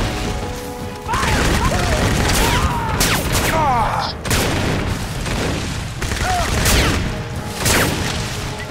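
Crossfire gunfire in the jungle shooter Crysis, with dense bursts of rapid shots and heavy impacts rolling continuously close by, under a voice shouting intermittently.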